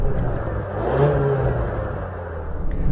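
Inside a 2021 Ford Bronco Sport Badlands, the 2-liter turbocharged four-cylinder engine hums and swells as the car accelerates, peaking briefly before settling into a steady mid-pitched drone under road noise.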